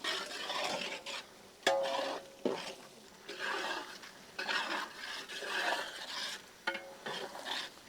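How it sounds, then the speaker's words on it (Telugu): Tomato pieces and tomato puree frying in oil in a pan for Arabian-style chicken majboos, heard as stirring scrapes and clinks of a utensil over a soft sizzle, with bursts of mixing through the whole stretch and no talking. "టమాటో ముక్కలు నూనెలో చక్కగా వేగి ఉడుకుతున్నప్పుడే"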